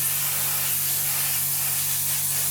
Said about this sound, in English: And we're just going to spray these up.